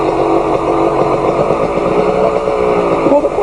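A dirt bike engine runs close by with a sustained, buzzing rev that holds fairly steady with slight wavering, loud throughout the short stretch.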